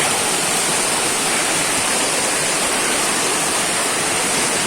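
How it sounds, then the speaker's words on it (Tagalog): A strong river current rushes past a riverbank in General Nakar, Quezon, making a steady, loud, broadband roar of flowing water that continues without pause, with no voices over it. "Malakas ang agos."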